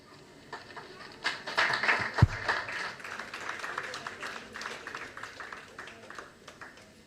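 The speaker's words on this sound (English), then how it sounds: "a huge round of applause" Applause at a seventh anniversary celebration event for a foundation rises from scattered claps into a steady round of clapping from a crowd, moderately loud and fading toward the end, with faint voices beneath.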